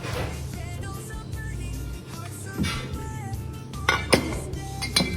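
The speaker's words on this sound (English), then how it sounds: "For the bourbon, we will add a 30 ml." Bar tools and glassware clink and knock while 30 ml of bourbon is measured into a cocktail stirring jar, with a few sharper glassy clinks near the end over a steady low background hum.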